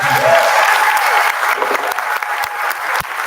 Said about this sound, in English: to our candidates for both being up here tonight, we have a round of applause.